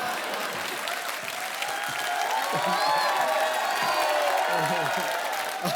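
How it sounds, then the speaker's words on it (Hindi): A television comedy show's studio audience breaks into loud, sustained applause with some cheering and whoops, while a voice carries on over the clapping. "समर्थ के लिए जोरदार तालियां।"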